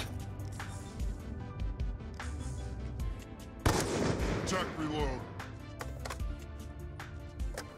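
Gunfire from a Call of Duty: Black Ops 2 match during trickshotting, with a sharp loud shot burst near the middle standing out above continuous game sounds and background noise.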